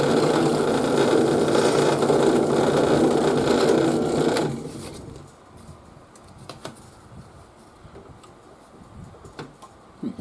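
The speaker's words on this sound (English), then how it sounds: "the drill bit as it's going through the mother of pearl and the plastic backing" Drill bit boring through mother of pearl with a plastic backing while making a bass guitar: a loud steady whirring grind for about four seconds, then it cuts off, leaving quiet handling clicks.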